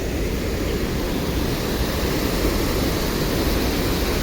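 Steady, heavy rush of a waterfall swollen after heavy overnight rain fills the scene, a constant roar with no breaks and no voices.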